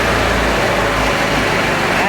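A multi-cylinder petrol engine on a test bed running at about 3000 rpm under load with fuel cut off to its third cylinder, a loud, steady, dense drone with a deep low throb throughout.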